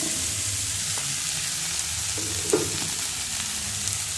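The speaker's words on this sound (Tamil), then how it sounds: "லோ ஃப்ளேமில் கொஞ்சம் வதங்க விடணும்." A ground coconut-style paste with green gram and raw plantain sizzles steadily in a pan over a low flame, a soft continuous frying hiss with one brief scrape of stirring near the middle.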